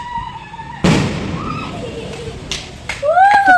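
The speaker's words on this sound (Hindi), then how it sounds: "तो मैंने एक स्काई शॉट शूट किया तो देख लो." A Diwali sky shot firework launches with a sharp whooshing burst, followed by crackling pops, thuds and whistling streaks, loud and fairly close.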